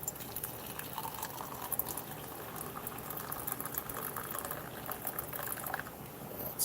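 Water is poured into an MRE ration coffee pouch, giving a steady, close liquid rush and gurgle that runs continuously with no talk over it.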